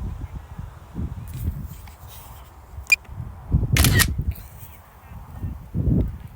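A sharp mechanical camera shutter click, with a second louder burst of clicking shortly after, over low background rumble and handling noise, while photographing a sunset outdoors.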